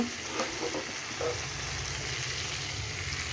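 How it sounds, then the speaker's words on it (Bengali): Hot water poured into a tomato chicken curry in a hot pan, producing a steady close sizzle and bubbling with a brief splash near the start, moderately loud with no voices. "কষানো হয়ে গেছে, জল দিয়ে দিব।"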